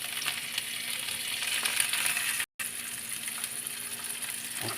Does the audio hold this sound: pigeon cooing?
no